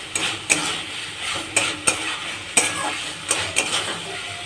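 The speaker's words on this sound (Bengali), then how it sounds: "মাছটা আমি দিয়ে দিলাম একটু নাড়াচাড়া করে" Small mourala fish frying in a pan are stirred with a metal utensil, giving several sharp clanks against the pan over a steady close sizzle.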